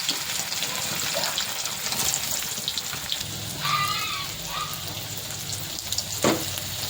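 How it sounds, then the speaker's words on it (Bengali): Steamed eggs frying in oil in a pan, a soft, steady sizzle and spatter with a few stirring or utensil sounds, moderately close. "প্রথমে আমি ডিমটাকে ভাপে সিদ্ধ করে নিয়ে এখন ভেজে নেব সব।"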